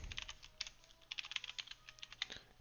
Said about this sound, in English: I was typing too quick.